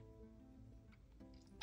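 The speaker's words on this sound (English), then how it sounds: "I'm gonna sneeze." After near silence, a single loud, sudden sneeze bursts out right at the end.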